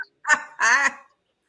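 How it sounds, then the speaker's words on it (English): A rubber duck toy gives two short, close, honking squeaks, the second longer and fuller, with silence around them. "My duck barely could squeak."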